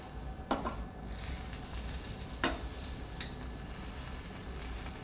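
Tri-tip steak sears on a grill just after being flipped, giving a steady soft sizzle throughout with a couple of brief clinks from handling.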